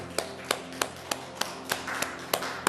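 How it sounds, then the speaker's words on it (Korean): A church congregation claps in thanks to God, sounding as sharp, evenly spaced claps about three per second, fairly faint and distant against a quiet room background, with no talking. "하나님께 감사의 박수를 드리겠습니다"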